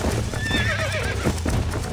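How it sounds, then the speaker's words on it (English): A horse whinnies loudly and close while being broken in during Red Dead Redemption on PS5, with a rising and falling neigh over steady hoof clatter and game background noise. "I'm breaking in a horse in this game"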